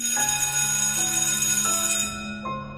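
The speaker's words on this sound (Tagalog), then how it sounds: "biglang nagring yung bell" A bright school bell rings repeatedly with a shimmering metallic tone, the rings overlapping at a steady pace and fading out near the end.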